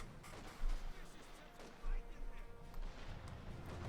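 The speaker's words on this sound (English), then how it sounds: "and of course, artillery" Artillery fire in Company of Heroes 2, a World War II strategy game, with heavy booms landing around 0.6 and 1.9 seconds amid rolling battle noise, under talk.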